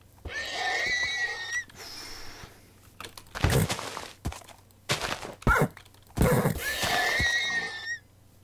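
A white horse in Minecraft whinnies several times in short bursts with thuddy clicks between them, close and fairly loud, no talk over it.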